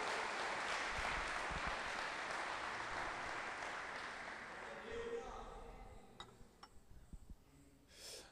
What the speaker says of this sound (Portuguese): Quantos podem aplaudir o Senhor?